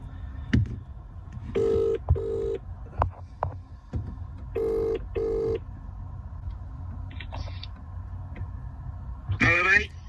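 Phone ringing while calling someone, with repeated electronic ring bursts and tones separated by short gaps, alongside clicks and background noise.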